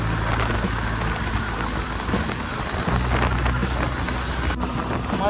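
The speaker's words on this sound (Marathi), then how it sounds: "पाऊस चालू झाला परत." Steady rain pours down during a solo motorcycle ride on the Mumbai–Goa highway toward Kokan, a dense, continuous hiss with a low rumble beneath it and no voices.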